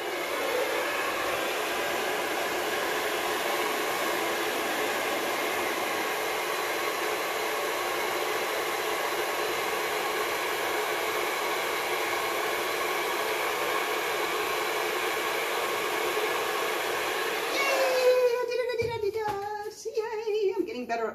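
A hair dryer set to cold and low blows a steady, even whoosh across a painted canvas for a long stretch, then cuts off near the end, leaving a quiet room.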